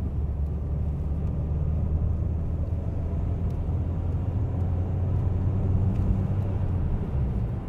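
A 1991 Peugeot 309 GT pulling away in fourth gear, its engine a steady low drone with road rumble, loud and close from inside the car and unbroken throughout, with no talk.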